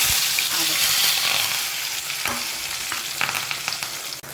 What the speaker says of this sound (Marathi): कांदा टोमॅटो आणि कढीपत्ता तो आता आपण तेलामध्ये टाकणार आहोत